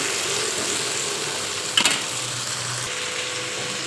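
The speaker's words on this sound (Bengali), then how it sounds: "টমেটোটা একটু নাড়াচাড়া করব।" Chopped tomato stirred through spiced oil in a pan gives a steady sizzle and hiss, with a sharp clatter of the spoon against the pan near the middle and faint scraping after.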